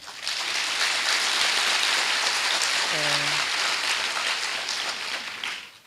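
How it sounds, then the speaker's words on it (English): An audience at a university matriculation ceremony applauds in a steady, dense wash of clapping that sustains for several seconds before tapering off, with a short tonal sound briefly cutting through midway. "I wish that you clap for yourselves for coming early"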